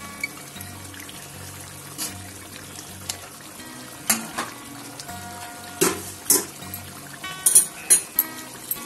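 Potatoes going into a pot of chicken biryani, with a steady low cooking hiss under scattered splashes, clatters and stirring knocks that grow louder toward the end; no talking.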